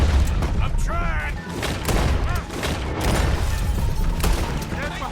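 Repeated gunfire in Red Dead Redemption 2 during a wagon-push shootout, dense volleys of shots and booms running throughout under urgent shouted voices and game noise.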